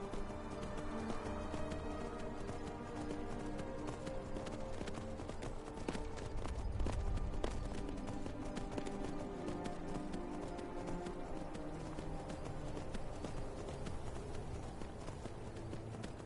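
Horse hooves clip-clopping steadily in the Skyrim video game, a continuous walking-to-trotting rhythm of hoof falls, fairly close and even in level throughout.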